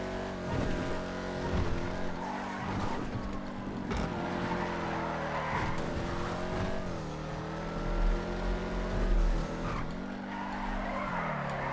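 Hellion car in GTA FiveM driving hard around a racing lap, engine roaring steadily with repeated tire skids and squeals throughout, loud and continuous with no talk.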